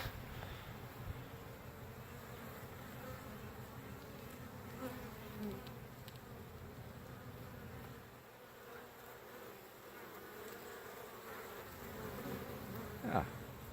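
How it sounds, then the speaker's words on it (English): A soft, steady drone of many Buckfast honey bees buzzing around a hive, quiet and continuous, with a few individual bees passing closer. "Let's have a little sneak up to the bees,"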